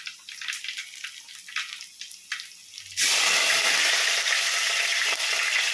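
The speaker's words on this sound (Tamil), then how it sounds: "இப்போ இதில் வெங்காயம் கருவேப்பிலை போட்டுட்டேன்." Sliced onion and curry leaves drop into hot oil for a Kerala-style sardine curry, a sudden loud, steady sizzle that takes over after a few seconds of softer kitchen clatter.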